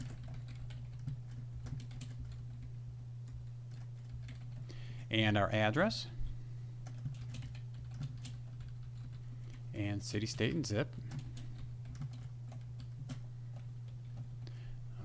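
Keys clatter on a computer keyboard in short bursts of typing, heard faintly under a steady hum, while someone talks through entering company details in software.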